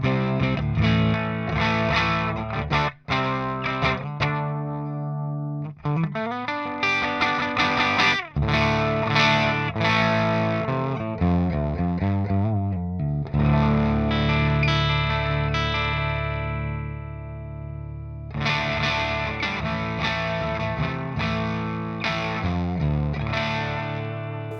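Electric guitar played through a Jeval 150W amp-in-a-box pedal with the channel cranked into heavy metal distortion, loud sustained chords and chugging riffs with brief stops, no talking.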